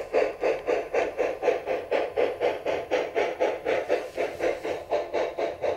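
Steam chuffing from the sound system of a Bachmann diecast NYC Hudson model locomotive comes as a steady, even rhythm of about three beats per second, loud and close, with no talk over it.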